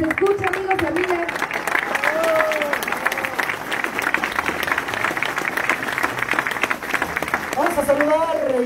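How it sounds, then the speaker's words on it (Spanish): Crowd at a municipal campaign launch rally in Jiquipilco applauding and cheering, dense continuous clapping with shouts, while an announcer's amplified voice talks over it. "un fuerte aplauso que se escuche, amigos y amigas."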